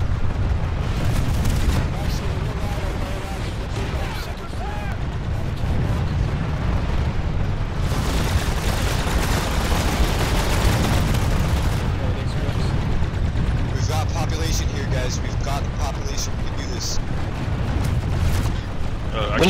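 Rocket and grenade blasts pound through a Planetside 2 battle around a biolab, with dense, continuous explosions and gunfire rumbling loud and close while players talk over the chaos.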